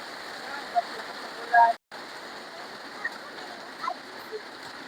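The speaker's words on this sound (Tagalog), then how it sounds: "Ang lakas ng ulan, oh my goodness." Heavy rain pours down steadily as a dense, constant wash of water noise, with a few brief louder splashes and one short drop-out near the middle.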